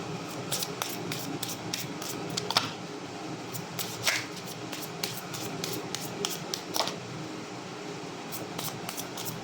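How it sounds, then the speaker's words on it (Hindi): A deck of tarot-style cards is shuffled repeatedly, producing quick rippling riffles and soft flicks in a steady rhythm, close and moderately quiet over faint room hiss. "last shuffle"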